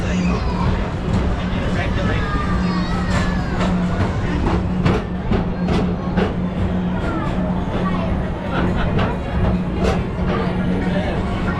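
Disneyland Tomorrowland People Mover ride vehicle gliding along its track: a steady, loud rolling rumble with faint rhythmic clicks and a low hum, under a recorded announcer's voice and crowd chatter.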